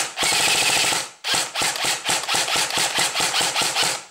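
A battery-powered M4A1 airsoft gun fires close and loud: a rapid full-auto burst of about a second, a brief pause, then a longer string of quick, slightly uneven bursts and single shots.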